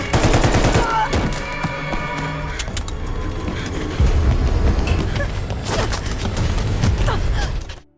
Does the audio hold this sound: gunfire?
yes